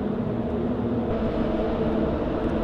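A steady, low rumble of heavy Lisbon city traffic, dense and continuous, with a deep mechanical drone of a train crossing a nearby bridge.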